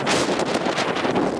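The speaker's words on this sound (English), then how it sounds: "driven by a wind howling with sound perfect for a horror movie" Strong blizzard wind roars and buffets loudly and continuously, a dense rushing blast with gusty surges and no voices.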